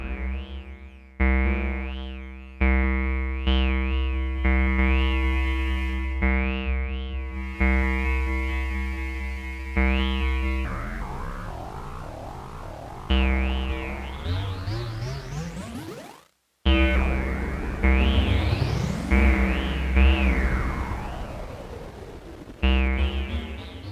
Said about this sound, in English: this delay circuit here has been modeled after a bucket brigade chip